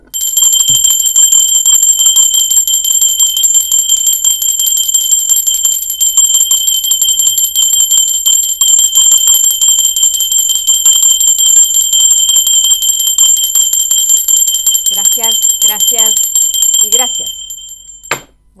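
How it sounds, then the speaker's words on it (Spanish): Continuous ringing of a small bell, bright and loud from start to finish, with tones sustained almost unbroken for roughly seventeen seconds before stopping; a voice speaks briefly near the end. "Ahora sí va campana"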